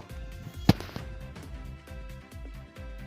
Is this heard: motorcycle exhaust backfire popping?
yes